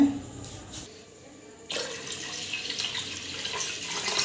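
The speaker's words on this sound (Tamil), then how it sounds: "இன்னும் ஒரு பதினாறு டம்ளர் தண்ணி நான் ஊற்றணுங்க" Water pours steadily from close by into a pressure cooker, a continuous rushing splash that starts abruptly after a quieter moment and continues loudly to the end.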